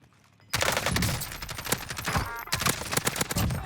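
Gunfire in the battle royale video game Warzone: sudden loud bursts of rapid automatic shots start after a quiet moment and continue with short pauses, close and sharp.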